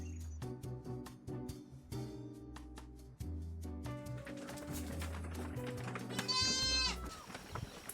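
Goats on a farm give a few bleats amid steady tapping and shuffling from the animals nearby, with one clearer wavering bleat rising near the end.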